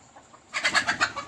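After a near-silent moment, a quick burst of five or six clucking calls from a chicken in a pigeon loft, close and moderately loud.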